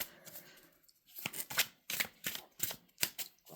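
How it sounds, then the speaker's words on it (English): Tarot cards being shuffled, a series of quick crisp riffling bursts in an uneven rhythm, close and fairly quiet. "And give this a nice shuffle for you."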